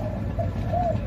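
Short cooing calls from a caged decoy bird of the pigeon or dove type, two soft coos close by over steady low background noise, with no talking.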